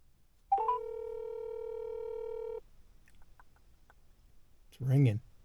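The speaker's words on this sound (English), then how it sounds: "It's ringing." A telephone call rings out with one long, steady electronic ringback tone lasting about two seconds, followed by quiet background noise and a brief voice answering at the end.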